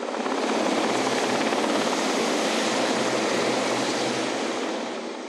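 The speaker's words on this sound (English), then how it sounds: "one of the 6 emergency helicopters sent to the scene comes in for another rooftop rescue" An emergency rescue helicopter hovers over a flooded Cornish village during the 2004 Boscastle floods, its rotor and engine roar loud, steady and close throughout before easing slightly at the end, with no speech.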